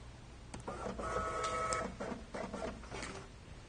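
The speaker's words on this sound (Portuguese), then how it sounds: "ele já imprimiu direto a leitura X" A Daruma receipt printer prints out a report, giving a few seconds of steady, close mechanical buzzing and rattling in short bursts, with no talking.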